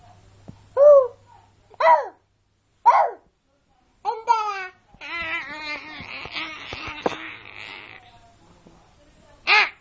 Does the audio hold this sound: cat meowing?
yes